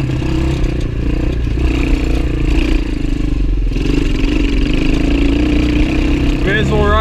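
A tired, aging Gio X31 250cc dirt bike engine running steadily at idle on a trail outing, a loud, close, continuous mechanical drone with clatter throughout.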